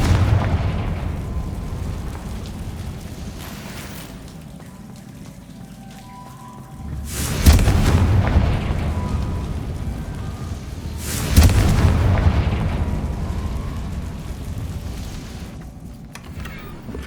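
Confringo fire spells go off in the Hogwarts Legacy video game: over a low rumbling bed, two loud booming blasts land a few seconds apart, each fading slowly into a long tail.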